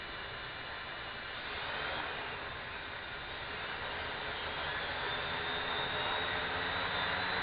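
Steady, whining motor roar from a drone flying just after takeoff with a possible motor calibration fault, loud and continuous, swelling slightly over time with no talk.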